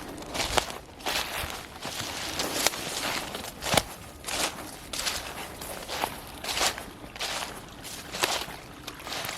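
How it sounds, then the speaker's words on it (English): Footsteps crunch and shuffle along a sandy, stony creek bank, a steady walking rhythm of close, moderately loud steps with a faint trickle of water and no talking. "Been walking for a few minutes here."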